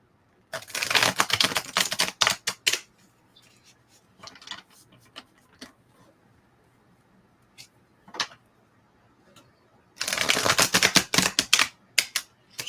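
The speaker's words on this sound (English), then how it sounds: "And they shuffle really nice as well." A new 2025 Wizard of Oz tarot deck being shuffled: two dense bursts of riffling card flutter near the start and again near the end, with scattered light taps and flicks in between, close and clear with no talking.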